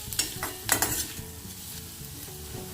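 Onions frying in oil in a kadhai while a spoon stirs them, a soft steady sizzle broken by a few sharp metallic scrapes and clinks, close and fairly quiet with no talk.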